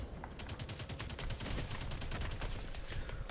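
Rapid bursts of gunfire from the video game Call of Duty: Advanced Warfare, a dense, loud stream of shots and impacts running continuously throughout with no voices.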